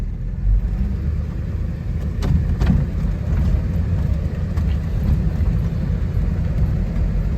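Low engine rumble from a Lincoln Corsair as it is shifted into drive, a steady close drone inside the cabin with a couple of faint clicks early on.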